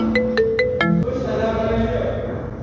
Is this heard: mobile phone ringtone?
yes